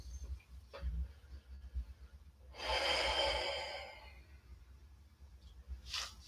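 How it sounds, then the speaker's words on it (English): Deep breathing during a yoga routine on a new mat: a slow, drawn-out exhale near the middle stands out as the loudest part, with a short breath early on and another near the end, otherwise quiet. "So, you're just going to focus on the breathing. Think of nothing else but the breathing."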